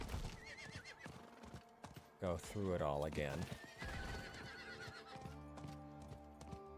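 A horse in Diablo 4 neighs loudly in a long whinny while hooves clop rhythmically nearby; someone speaks briefly over the sounds.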